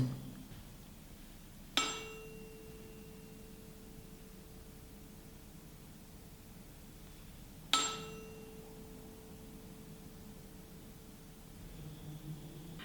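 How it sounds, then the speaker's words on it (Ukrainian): Two sharp metallic strikes of a small hammer on a tuning fork not mounted on its resonator box, several seconds apart, each leaving a clear pure ringing tone that hangs and slowly fades in an otherwise quiet room. "Тримаючи в руках камертон, не закріплений у ящику резонаторі, вдаряємо по ньому молоточком"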